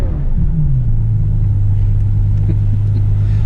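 Deep, throaty Ferrari sports car engine rumbling steadily while driving, with a brief pitch dip early on, loud and close from inside or beside the car.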